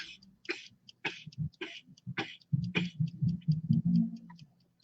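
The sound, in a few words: person coughing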